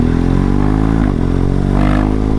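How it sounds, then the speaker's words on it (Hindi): Motorcycle ridden through busy Delhi traffic, its engine droning loud and steady throughout, with a brief dip and some clatter partway. "अब मैं अपनी बाइक पे वापस आ गया हूँ और बस घर जा रहे हैं।"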